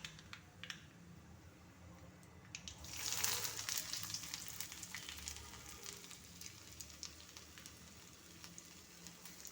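Mustard seeds splutter in hot oil in a pan as a curry is started, with soft sizzling, scattered crackling pops and a denser burst of spattering, all faint and without talk.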